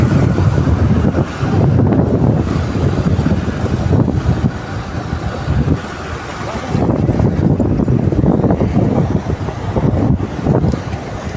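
Strong wind rushes and buffets continuously, rising and dipping in gusts over a low rumbling background.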